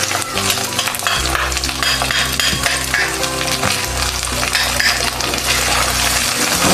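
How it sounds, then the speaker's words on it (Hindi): Garlic and ginger frying with browned onions in a pan, a loud continuous sizzle with constant stirring and metallic scraping close by. "लहसुन और अदरक को हमने अच्छी तरह भून लिए 1 मिनट लगा के"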